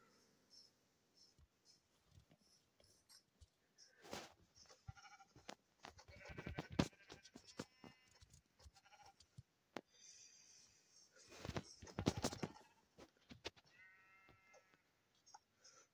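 Sheep in the Minecraft video game give several short bleats scattered through a quiet stretch, with occasional clicks and soft game noises between them.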